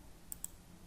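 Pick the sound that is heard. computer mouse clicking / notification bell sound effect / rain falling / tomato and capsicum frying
computer mouse clicking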